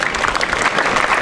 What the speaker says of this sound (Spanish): Así que hay que darles un aplauso también.